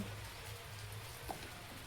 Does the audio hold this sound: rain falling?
yes